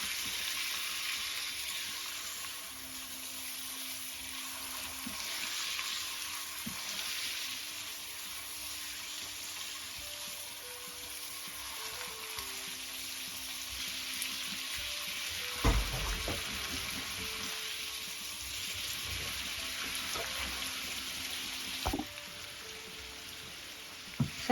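A fish sauce for spaghetti fries on high heat, a continuous loud crackling sizzle throughout, with a couple of sharp utensil knocks against the pan.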